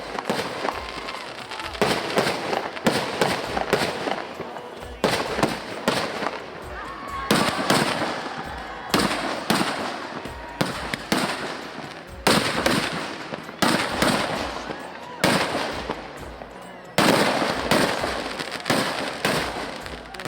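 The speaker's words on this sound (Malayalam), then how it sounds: "ഏകദേശം 4 മണിയോടെ നെന്മാറ വല്ലങ്ങി ദേശക്കാരുടെ ആദ്യ വെടിക്കെട്ട് നടക്കുന്നു." Fireworks display at the Nenmara Vela temple festival in Kerala, the first round set off by the Nenmara and Vallangi communities: dense bursts of loud crackling explosions in repeated volleys, rolling almost continuously with short gaps between salvos.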